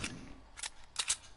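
Quick gunshots in Fortnite, a few short sharp cracks in a brief burst with the last two close together, faint and isolated with no talking.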